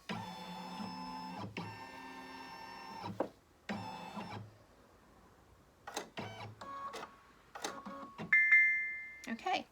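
A Baby Lock Destiny II embroidery machine's carriage shifts during a scan: bursts of motor whirring and whining with short stepping moves and pauses, close and moderately loud, ending in a few higher electronic tones.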